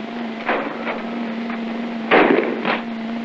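Skeet shooters fire at clay targets on a range in old wartime film footage: several separate gunshots crack over a constant low mechanical hum, with one louder blast near the end.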